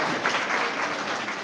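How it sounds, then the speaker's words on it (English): A group of children clapping together at a storytelling session, a steady, dense patter of applause that stays even and fairly close throughout, with no talk over it. "So you can also clap, no?"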